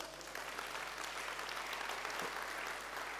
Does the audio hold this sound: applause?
yes